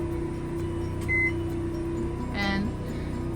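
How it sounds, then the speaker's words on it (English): A microwave runs with a steady low hum on generator power inside a Thor Four Winds 22E RV, with a short beep and a brief rising whir over the constant drone. "And the microwave's on, so that means the generator is giving power to everything."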